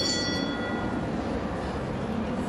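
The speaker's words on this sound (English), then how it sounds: "As the bell gets this round underway." A bell rings once at the start of a show jumping round at an equestrian event in London, a bright tone that decays quickly over a steady background hum of the arena.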